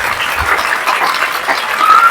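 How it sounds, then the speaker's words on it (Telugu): An audience clapping for teachers at a government school event, a loud, continuous crowd applause with a fairly even texture throughout the brief moment. "ఒక్కసారి మీ టీచర్లందరికీ చప్పట్లు కొట్టాల్సిందిగా మిమ్మల్ని కోరుతా ఉన్నా"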